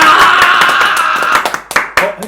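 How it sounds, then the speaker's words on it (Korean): A few people clap together in a small room before a talk about a music video, giving a quick run of sharp, close hand claps that thin out toward the end while voices chatter underneath. "일단 박수부터 하고 시작을"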